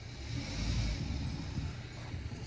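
A car stuck in snow revs its engine as the tires spin in place, giving a muffled, rising and falling rumble that sounds fairly distant and quiet.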